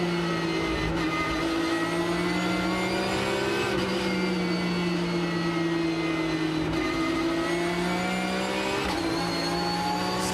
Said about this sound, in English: Listening here to the sound of that engine, the Force Racing car.